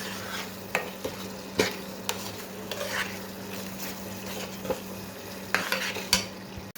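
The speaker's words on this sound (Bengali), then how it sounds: "তাই তো মশলাটা কষানো হচ্ছে, আরও ওইটাকে একদম শুকিয়ে ফেলবো।" Spice masala of turmeric, chilli, coriander and cumin powder being sautéed dry in a pan for a fish dish, with a steady soft sizzle and repeated sharp scrapes and clinks of a spatula against the pan.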